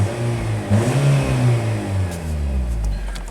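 A Nissan's 1.8-liter car engine revs up with a rising, droning tone, holding steady and loud close by before easing slightly.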